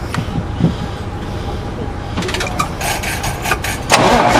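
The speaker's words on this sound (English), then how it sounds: "Could you bump the engine?" A used truck's diesel engine is briefly cranked over with rough, chugging turns and mechanical clatter close by, following a stretch of quieter shop noise.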